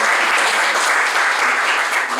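Church congregation clapping for God during a Sunday service, loud and close, with many hands clapping in a dense, continuous burst.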